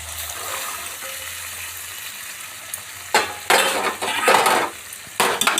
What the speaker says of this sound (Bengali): মটরগুলো দিয়ে কিছুক্ষণ আমি কষিয়ে নেব।